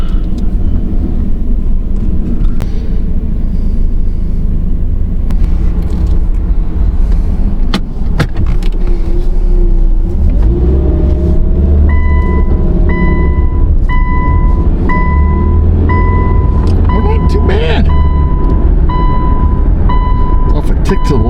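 A Subaru with a rotted subframe and 104,250 miles drives down a road, a steady loud engine and road rumble throughout with some rattles and a rising tone near the end, while someone talks over it.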